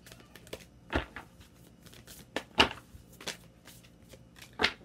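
Moon oracle cards being shuffled by hand during a tarot-style love reading, a series of soft papery riffles and flicks in irregular bursts, close and fairly quiet, with no talking.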